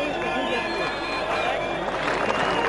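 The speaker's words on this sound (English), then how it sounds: "The applause goes up in anticipation for Kirsten's 100." Cricket crowd at a 1996 World Cup match between South Africa and UAE applauding steadily as Gary Kirsten nears his hundred, a continuous broad roar of clapping and cheering throughout, with commentary talk over it.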